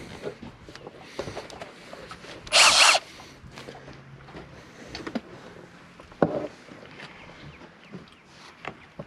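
A power drill, the 'screwing stick', driving screws while working on a boat: one short, loud whirring burst stands out over quiet workshop background.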